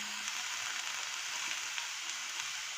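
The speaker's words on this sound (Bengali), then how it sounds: "এবার এগুলোকে ভালো করে একটু সতে করে নেব।" Loud, continuous sizzle of carrots, yellow and red bell peppers, capsicum and beans sautéing in a hot pan, close up and unbroken with faint stirring scrapes.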